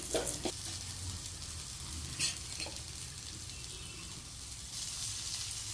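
Slices of bitter gourd fry in hot oil in a pan, giving a steady close sizzle while they are stirred and turned, with occasional scraping knocks.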